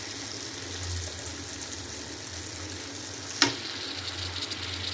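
Ginger garlic paste frying with browned tomato and onion in a pan, giving a steady, close sizzle with one sharp clink partway through.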